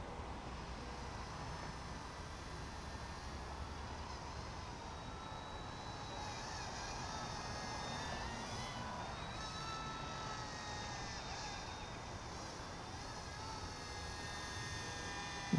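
A small 95-gram C-186 RC helicopter flies outdoors at dusk, its faint whining rotor and motor tone rising and shifting in pitch as it passes, steady and distant throughout.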